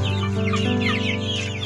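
Heritage chickens about two and a half months old on a farm in General Santos City cluck continuously up close, with overlapping bird calls filling the whole short stretch.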